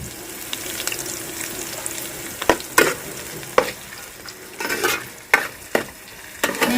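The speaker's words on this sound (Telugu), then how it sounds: "జీలకర్ర వేసుకుందామండి" Cumin seeds sizzle in hot oil in a pan for gongura pulao. A steady frying hiss runs under repeated close scrapes and clinks from stirring, and there is no talking.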